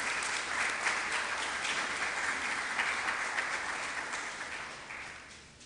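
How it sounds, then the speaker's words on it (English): An audience applauds sponsors at an evening event, a steady, dense wash of many hands clapping that holds for several seconds and slowly tapers toward the end. "we'll kindly ask you to applaud our sponsors on our behalf"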